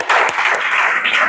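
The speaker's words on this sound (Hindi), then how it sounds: "जोरदार ताली, जोरदार।" A class of students bursts into brisk, dense applause, loud and close, sustained for just over a second without speech.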